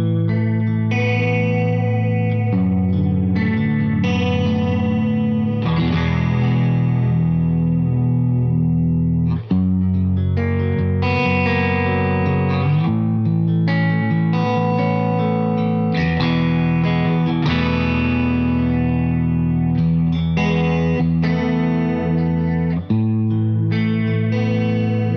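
Guitar played through a Beetronics SeaBee effect pedal using its ramp fade: chords and notes with a swirling, chorus-like modulated tone, loud and sustained, swelling and shifting continuously with no talk.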